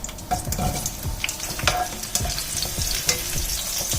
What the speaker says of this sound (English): So we heat a pan with oil as usual, and then go in with the ginger slices and shallots.